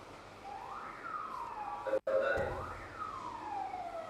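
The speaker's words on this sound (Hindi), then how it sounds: "किसके उसमें बज रही है एम्बुलेंस?" An ambulance siren sounds outside, with its wailing tone sweeping up and down repeatedly at moderate distance over a steady background hum.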